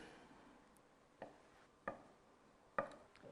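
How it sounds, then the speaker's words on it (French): Fresh scallops for a seaweed tartare being sliced with a knife in a quiet kitchen: three soft, separate cuts against a board, faint and spaced about a second apart, with no talking. "Donc notre belle noix de Saint-Jacques, on va les couper."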